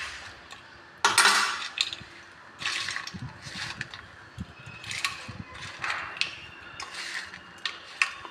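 A spoon stirring sweet aval (flattened rice) with coconut in a pan, giving repeated scraping and clinking strokes at an uneven rhythm, close and fairly clear, with no one talking.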